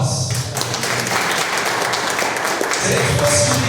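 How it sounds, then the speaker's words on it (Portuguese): A class of catechism students applauds with a brief burst of quick, scattered clapping, moderately loud, with a voice speaking faintly underneath. "salve de palmas"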